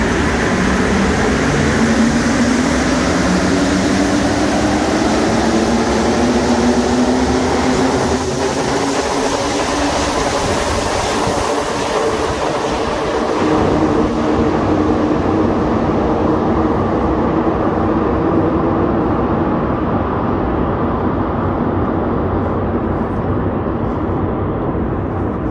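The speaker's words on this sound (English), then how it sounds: "one of the coolest views that you're ever going to see of a train going towards another station" A Montreal metro train pulling out of Pie-IX station fills the space with a loud, steady rumble and a slowly rising motor whine that thins out and fades toward the end.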